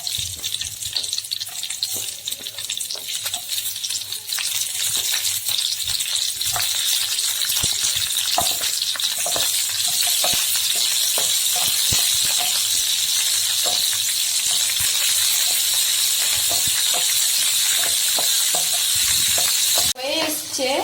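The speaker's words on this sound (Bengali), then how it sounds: "তেল দেওয়ার পর তেলটা গরম হলে প্রথমে লঙ্কা কুচি দিচ্ছি, তারপর হচ্ছে ওই কিউব করে রাখা পেঁয়াজ কুচি এটা দিচ্ছি" Chopped green chilli and cubed onion sizzle steadily in hot oil, a loud continuous frying hiss with scattered crackles and stirring clicks throughout, briefly louder near the end.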